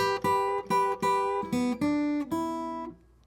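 A fingerstyle blues guitar section, with a string of plucked notes and chords building over about three seconds before ringing out, played alone.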